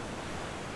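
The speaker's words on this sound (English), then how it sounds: "No cell service. Just the ocean." Ocean waves break near the Black Rock Lighthouse, a dense, steady wash of surf with a rushing, wind-like hiss and no voices.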